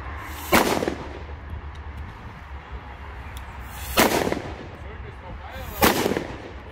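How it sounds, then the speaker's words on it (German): Pirat firecrackers explode in three sharp, loud bangs spaced a few seconds apart outdoors, each with a short rumbling decay over faint background noise. "Jetzt wird einmal alle böllern"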